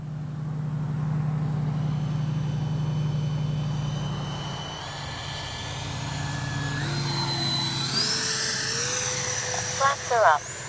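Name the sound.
Kavan Skyfox L-39 80mm RC jet flying by slowly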